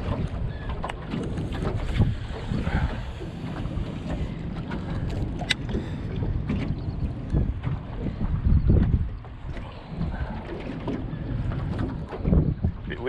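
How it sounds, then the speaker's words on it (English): A small fishing boat drifts on the windy Brisbane River in light rain, with steady low wind rumble buffeting the microphone and water movement around the hull throughout. "Bit windy over here, Art"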